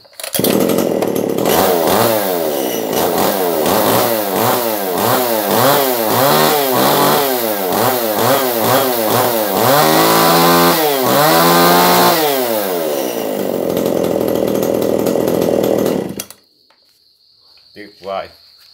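A Tanaka 290 mini top-handle chainsaw runs loud and close, its engine revving up and down in repeated bursts with a harsh buzzing whine, then cuts off abruptly near the end, leaving only faint sounds.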